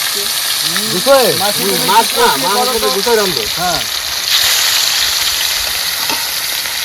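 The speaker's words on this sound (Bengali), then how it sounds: "তেল গরম হয়েছে বন্ধুরা মাছ ভেজে নিলাম" Fish fry in hot oil in a pan with a constant, fairly loud hissing sizzle, while a voice talks over it for a few seconds.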